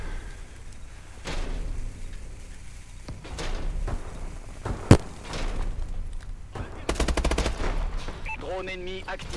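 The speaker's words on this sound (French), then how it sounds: "c'est vraiment une arme cadence élevée ça" Rapid automatic gunfire from a high rate-of-fire weapon in Call of Duty: Advanced Warfare, heard in short bursts with single shots and one loud blast, close and punchy, mixed with game effects and a player's voice.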